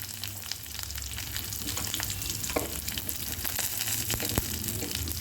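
Mustard seeds, chana dal, urad dal, garlic and dried red chillies frying in hot oil for a tempering, a steady dense sizzle with scattered crackles and pops throughout, close and fairly loud, no talking.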